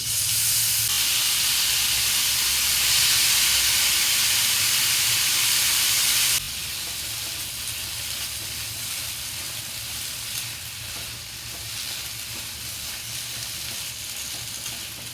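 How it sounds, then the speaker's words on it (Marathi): Grated carrot for carrot halwa frying in a pan, a loud steady sizzle and hiss that drops to a softer, continuous crackle partway through, with occasional stirring scrapes and no talking. "पाच मिनटं आपण किस चांगला शिजवून घेतला"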